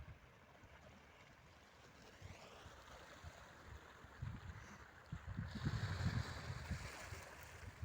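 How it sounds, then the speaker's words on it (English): Gentle waves lapping on a pebble beach at Torrevieja, a soft, steady wash of water that swells a little louder toward the end, heard alone with no voices. "Can you hear the waves?"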